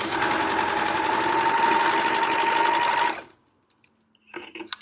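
Sewing machine running an overlock seam on a fabric library bag, a loud, steady, close mechanical whir lasting three seconds before it stops, followed by a few faint clicks and handling noises.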